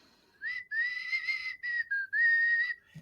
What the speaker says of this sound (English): Spend a little time whistling.